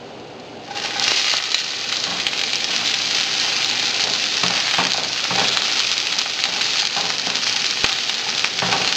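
Garlic sautés in a pan for a chayote stir-fry, a dense, steady sizzle that jumps up suddenly after a quiet start, then crackles on evenly with scattered sharp pops.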